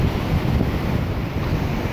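Ocean surf at Newport Beach, California, rolls in as a steady, loud wash of breaking waves mixed with heavy wind buffeting the microphone, with no voices.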